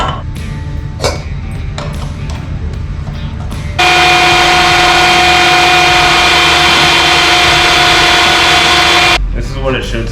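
An electric meat grinder runs on caribou venison, a sudden steady loud motor whine starting midway and cutting off after several seconds, with voices before and after.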